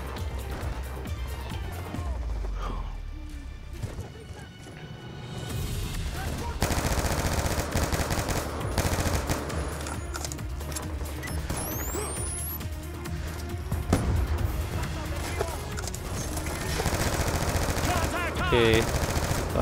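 Machine gun fire in Call of Duty Black Ops 2, continuous loud rattling bursts with shouting voices and battle clatter mixed in over a dense, sustained soundscape.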